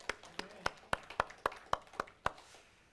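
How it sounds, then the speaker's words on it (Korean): About ten sharp, evenly spaced claps ring out in a church worship service, a slow rhythmic clapping of thanks heard close and fairly quiet. "우리 한번 같이 감사의 박수 하십니다"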